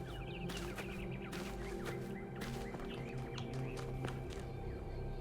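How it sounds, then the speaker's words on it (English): Birds chirping in the video game The Talos Principle 2: faint, scattered tweets and calls over a steady ambient backdrop with background music, no talking. "Where are all these birds I can hear?"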